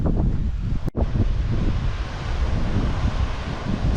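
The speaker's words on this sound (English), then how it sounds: "Super windy out" Strong wind on a Kauai beach buffets the microphone in a constant, heavy roar, with surf washing behind it and a brief dropout near the start.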